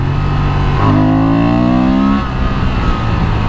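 A 2023 Honda Transalp XL750 motorcycle engine in standard mode growls loudly and up close, its pitch climbing steadily through a rev-up before settling back, with no voices.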